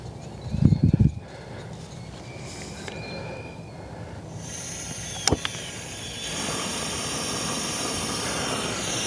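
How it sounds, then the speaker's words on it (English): A Harbor Freight propane torch with trigger start burning weeds on a driveway, with a few clicks and a brief ignition pop, then a steady broad hissing roar of flame that grows louder. "I'm gonna go ahead and light this thing back up, and I'm gonna burn some of the weeds here in my driveway"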